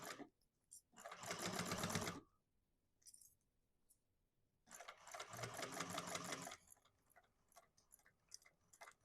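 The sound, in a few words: sewing machine basting fabric in place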